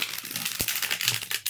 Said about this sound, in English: this one riffle shuffles really nicely.